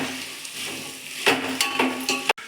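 Carrots and beans frying in oil in a pan for Karnataka-style veg palav, a soft sizzle with a few spoon stirs and scrapes against the pan, close and fairly quiet, with no talking.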